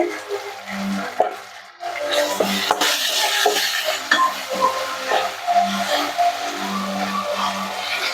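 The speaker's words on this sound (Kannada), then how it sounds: "ಚೆನ್ನಾಗಿ ಹಸಿ ವಾಸನೆ ಹೋಗೋ ತನಕ ಇದನ್ನ ಫ್ರೈ ಮಾಡ್ಕೊಳ್ಳಿ" Ginger garlic paste with tomato fries in a pan, giving a moderate sizzle with intermittent spoon scrapes and clinks against the pan, close by, plus a low hum in the background.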